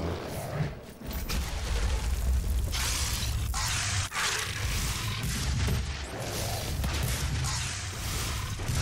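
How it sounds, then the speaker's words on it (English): Grenade attack in a SnapMap video game match, a dense run of booming, crackling explosions and mechanical combat noise that fills the whole stretch with only brief dips. "I'm going to try to kill you with a grenade"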